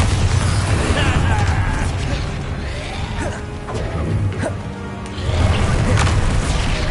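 A Bombarda spell blasts during a Hogwarts Legacy battle, loud booming crashes and rumbling debris surging, easing off mid-way, then swelling again under dense combat noise.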